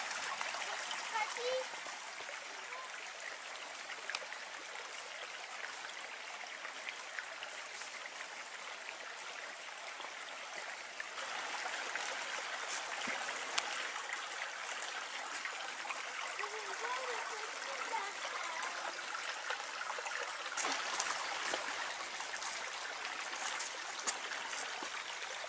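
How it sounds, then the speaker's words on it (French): A low river spilling over a small dam during an outdoor walk in Chazeau, making a steady, close rush of flowing and splashing water that runs without a break throughout. "la rivière est basse"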